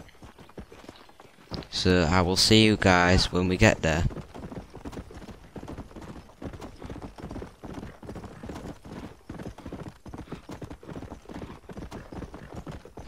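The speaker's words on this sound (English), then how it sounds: "I'm just gonna get on a horse and ride over there." Horse hooves clip-clopping across open ground in the Xbox 360 game Red Dead Redemption, a steady quick rhythm of hoofbeats running under the whole stretch, with a voice speaking briefly over it near the start.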